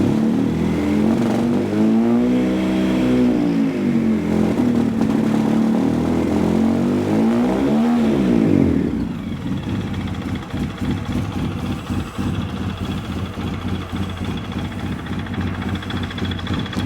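A motorcycle engine cranks over on a new starter and fires, its loud revving rising and falling for several seconds before settling into a steady, rough idle.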